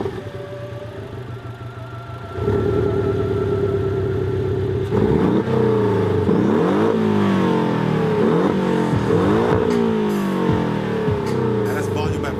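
A BMW i8 Roadster sports car with the twin-pipe S-model exhaust idles, then revs repeatedly in quick rising and falling bursts, loud and close, with a voice talking over it.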